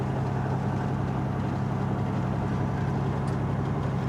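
A semi truck engine drones steadily while driving, a loud, continuous low rumble that fills the cab without a break.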